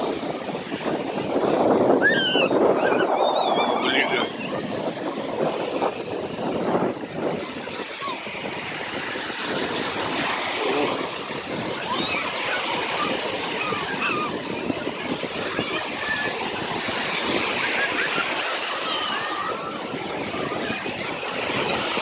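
Stormy sea waves breaking on a beach in Yevpatoria, a continuous broad surf roar with wind buffeting the microphone, heard steadily throughout, with some faint voices.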